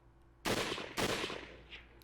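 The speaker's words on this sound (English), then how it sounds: "Suddenly, gunfire had been aimed and shot at us." Two sharp, loud bursts of video game gunfire crack in quick succession, each trailing off in a decaying tail before a faint final ring, with no talking.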